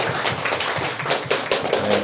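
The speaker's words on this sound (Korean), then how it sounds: "우리 환영의 박수 하겠습니다" A church congregation gives a round of welcoming applause for newcomers at a service: steady, dense clapping from many hands close by, with a few sharper individual claps standing out and faint voices underneath.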